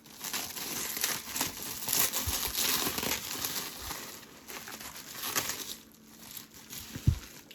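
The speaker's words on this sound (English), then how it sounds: "trying to get this tape off." Packing tape is peeled and torn off a mail package holding Hot Wheels cars, with close crinkling and crackling of tape and cardboard in uneven bursts and a sharp tug near the end.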